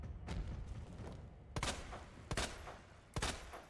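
Three or four spaced gunshots fired in the survival-horror video game Resident Evil 2, each a loud, sharp crack about a second apart, alone over a low, rumbling game ambience.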